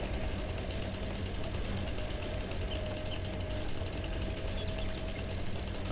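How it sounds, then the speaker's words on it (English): An in-game chainsaw in Farming Simulator 19 cuts through a tree, making a steady, loud motor drone that holds without a break for the whole stretch, with no talking over it. "let me hop out and cut this with the chainsaw real quick"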